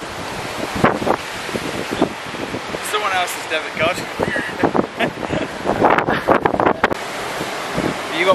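Strong gusts of wind buffet the microphone beside a parked car on a blustery New Zealand weekend trip, roaring and rumbling in irregular surges throughout while people talk over it.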